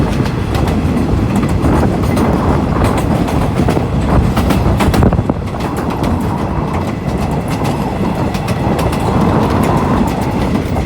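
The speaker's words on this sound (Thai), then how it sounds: "4543 นะครับทำขบวนรถเร็วที่ 172 นะครับ" GEA class locomotive 4543 hauling a long rapid passenger train through Nong Pradu junction in Thailand, a loud continuous rumble with rhythmic clickety-clack of wagon wheels over rail joints, passing close by without talk.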